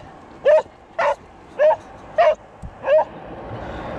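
A border collie gives five evenly spaced barks outdoors, close and loud, each short and a little yelping, with quiet pauses between them.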